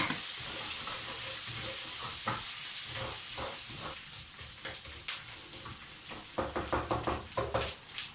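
Onion and pepper sizzle and crackle in a hot pan while cooking khao pad kai, a steady frying hiss with stirring scrapes and clatter growing busier toward the end, close and fairly loud.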